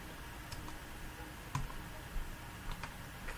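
Computer keys are tapped in light, scattered clicks against a steady background hiss, quiet and close, with no speech.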